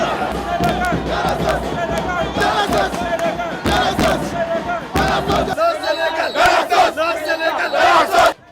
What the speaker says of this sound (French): Gando se retrouve au milieu d'une foule hystérique après le match